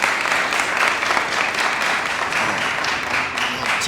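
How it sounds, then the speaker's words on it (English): Sustained applause from an audience, a dense steady wash of many hands clapping at once, fairly loud and continuous throughout. "Could we give her a round of applause"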